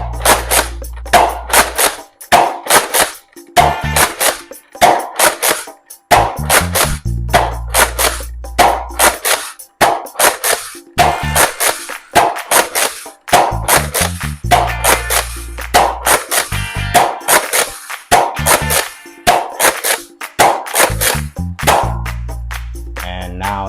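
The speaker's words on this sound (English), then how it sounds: "let's get to the firing test and see how the Nerf rival Hades, or I should call it Phantom Corps Hades, performs" A Nerf Rival Hades foam-ball blaster fires in normal mode, a long series of sharp, loud, close pops, each shot followed by the mechanical clack of priming, repeated at an uneven rhythm with brief pauses.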